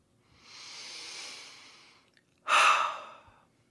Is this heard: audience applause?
no